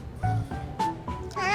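Cats meow softly in the video game Love and Deepspace, several short mews in quick succession with a higher, rising cry near the end.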